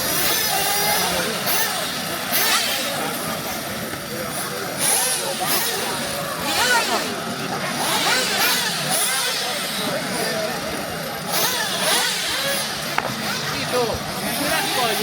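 Corsatec nitro RC buggy engine by someone runs steadily at a track, a continuous buzzing drone with rising and falling revs, loud throughout with voices in the background.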